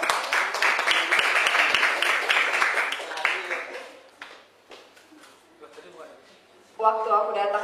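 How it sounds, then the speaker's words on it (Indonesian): An audience at a poetry reading claps in a dense burst of applause that fades out over about four seconds, followed by scattered quiet sounds and then a voice starting to speak. "Ini tepuk tangan."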